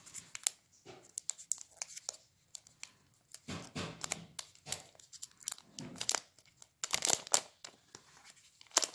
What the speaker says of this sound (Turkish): Şöyle jelatinini açıyorum.